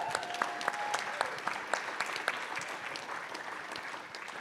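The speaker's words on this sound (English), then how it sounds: "Hold for applause." Audience applause at a business talk, steady clapping from a mid-sized crowd lasting several seconds, fairly close and even, slowly tapering toward the end.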